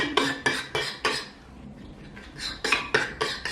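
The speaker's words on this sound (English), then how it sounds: "So I'm in this bowl. Mix it up." A utensil scrapes and knocks around a bowl as ingredients are mixed, in a quick, regular rhythm of strokes with a short pause midway. Close and fairly quiet, with no talking.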